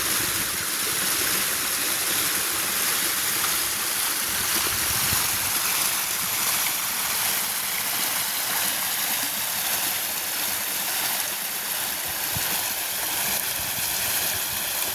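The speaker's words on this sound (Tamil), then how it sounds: "அங்கேருந்து மெல்ல மெல்லமாக வந்து கொண்டிருக்கு தண்ணி." Water flows steadily into Muthaiyankaddu tank, a reservoir in Mullaitivu, giving a constant broadband rush like a stream or small spillway, even and unbroken throughout with no voices.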